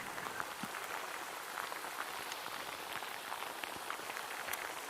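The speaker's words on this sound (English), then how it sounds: "It sounds like it's a drier rain though." Steady rain falls on water at a bass fishing league event, a dense, even patter of fine drops with scattered brighter taps, close and continuous with no talk.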